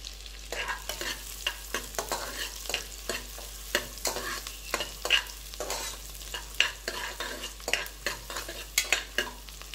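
Ginger, garlic and carrots stirred in a frying pan, with a quiet sizzle under rapid repeated scraping strokes of a spoon against the pan, heard close and without voices.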